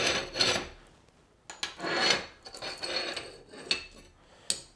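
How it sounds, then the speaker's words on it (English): Metal rings being lifted out of the cooktop of a Latvian plīts woodstove, giving several separate scraping, clinking metallic rasps with short gaps between them, close and fairly clear, with no voices. "we can pull the rings out to reveal more of the bare flame"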